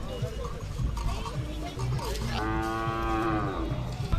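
A Khillar cow or bull lows loudly at a busy cattle market in Sangola, Solapur, one long harmonic moo rising over crowd chatter and background talk.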